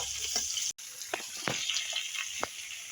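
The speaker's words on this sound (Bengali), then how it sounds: "এবার আমি সবজিগুলো দিয়ে দেবো দিয়ে ভালো করে একটু ভেজে নেব" Vegetables frying in a pan with onions give off a steady close sizzle, with a few soft stirring clicks and one brief dropout.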